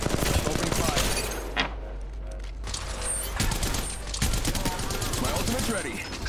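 Automatic weapon fire in Apex Legends Mobile, rapid bursts of shots crackling loudly and continuously across the whole stretch, with brief pauses between volleys and game effects mixed underneath.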